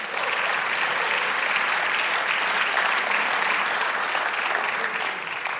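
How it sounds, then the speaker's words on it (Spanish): A church congregation claps steadily and loudly throughout, a dense, even wash of applause from many hands filling the room without pause. "y del otro aplauso al Señor"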